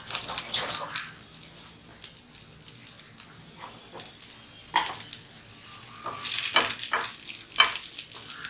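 Zucchini pancake batter frying in an oiled pan gives a quiet, steady sizzle, broken by light scrapes and taps of a utensil that grow busier toward the end.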